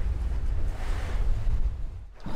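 Strong wind, enough for kitesurfing, buffets the microphone in a steady, low roar, with faint rushing noise like nearby surf underneath.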